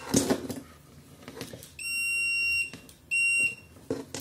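A multimeter in continuity mode beeps while testing a fuse from a WANPTEK DPS605U power supply: two sustained, piercing electronic tones, the first lasting under a second and the second shorter, with faint handling noise between.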